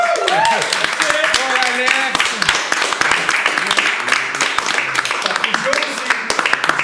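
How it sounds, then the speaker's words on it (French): Brief clapping for two guests on a French-language music interview podcast, a scattered patter of hands heard close under lively overlapping voices and laughter. "Une main d'applaudissement pour Alex puis Max."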